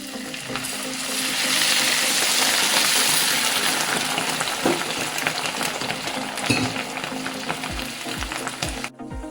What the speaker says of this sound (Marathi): आता आपण याच्यामध्ये पाणी ऍड करायचंय।